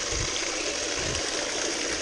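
Water and mud pour steadily into an arch during dredging or detecting work, making a continuous close rushing gush with no pauses and no talk.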